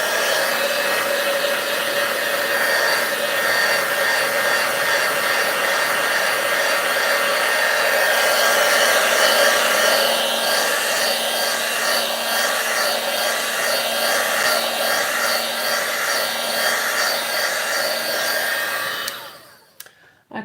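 A hair dryer blows steadily and loudly on handmade craft pieces for about nineteen seconds, a constant whooshing roar that then cuts off abruptly near the end.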